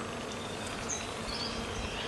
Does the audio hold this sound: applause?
no